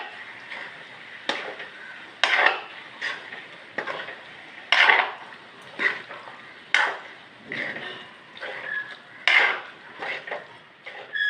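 Chicken pieces for pepper chicken are mixed in a metal pan, a series of clanking, scraping spoon strokes in an uneven rhythm, close and fairly loud, with no talk over them.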